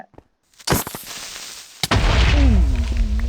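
A Minecraft 1.17.1 creeper blows up in a dark survival world, a single loud boom that cuts in suddenly and rumbles on, with a descending voice-like tone sliding underneath afterward.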